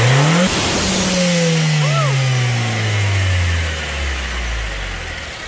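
A 2015 Nissan Juke Nismo RS fitted with a GFB blow-off valve revs loudly, then the valve releases a sharp whoosh and the engine note falls slowly back toward idle, heard up close.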